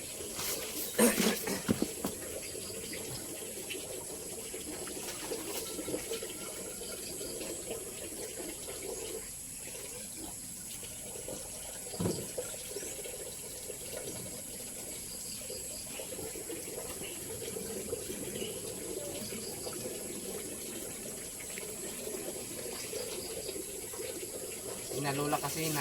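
Strong water rushes and gurgles through muddy rice fields after heavy rain, a continuous close wash of flowing water lasting throughout, with occasional bumps and handling noises on top.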